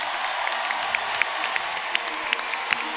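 Applause and cheering from an audience at the Grand Rex theatre fill the air with steady, dense clapping that holds throughout, with a few scattered claps and whoops standing out.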